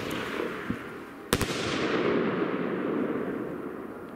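Star Trade Goldschlag firework shots at a New Year's Eve display: a loud crackling, hissing burst with a couple of sharp bangs partway through, then a sustained noisy rush that slowly fades.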